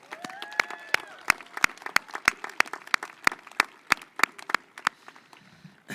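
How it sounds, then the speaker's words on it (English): Scattered, distinct claps from a graduation audience at San Luis Obispo High School saluting retiring teachers, sharp individual hand strikes ringing out unevenly rather than a dense roar, with faint crowd murmur beneath. "Please give our retirees a huge, warm applause"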